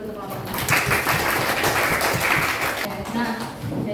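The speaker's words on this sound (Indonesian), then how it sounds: "kita berikan tepuk tangan dulu untuk kelompoknya" A classroom group of students breaks into sustained applause, dense overlapping clapping filling the room for several seconds with voices murmuring underneath.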